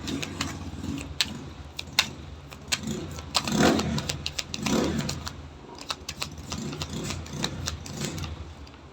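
Tricycle engines idle and rev at a nearby tricycle terminal: busy, clattering motor noise with repeated sharp ticks and two louder swells, no speech.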